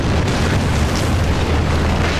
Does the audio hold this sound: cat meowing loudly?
no